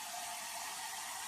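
Water runs in a steady, even rush, as if filling a measuring cup or pot with four cups of water for cooking quinoa, close and moderately quiet with no talking.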